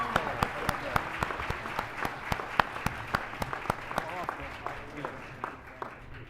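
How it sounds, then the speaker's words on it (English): An audience at a sheriff's department awards ceremony applauds deputies with distinct, fairly sparse claps in an irregular rhythm. The clapping thins and fades toward the end. "Let's give these deputies a round of applause."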